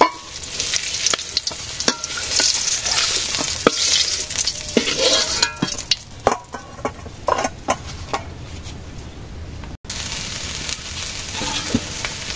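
Pointed gourd (potol) being stir-fried in a pan: a loud, close sizzle broken by repeated scraping and clattering strokes of a spatula, with a brief dropout near the end before the frying resumes.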